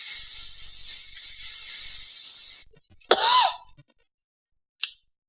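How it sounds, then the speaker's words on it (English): Hairspray from an aerosol can sprayed heavily onto hair, a loud, steady hiss held for over two seconds that cuts off abruptly, followed by a brief throaty rasp and a short puff. "hairspray the absolute shit out of your hair"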